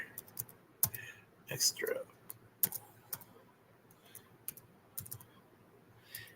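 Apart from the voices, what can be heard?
typing on a computer keyboard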